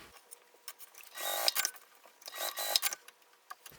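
A sewing machine runs in short quiet bursts while basting fabric in place, its rapid needle stitching starting and stopping in a few brief runs.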